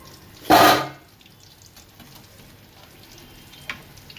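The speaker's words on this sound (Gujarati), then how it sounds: "બે ઘાણમાં બધાય લાડવાના પીંડિયા તળાઈ જાય." Churma ladoo dough balls dropping into hot oil, giving one loud burst of sizzling that fades quickly into a faint, quiet bubbling with a small crackle later.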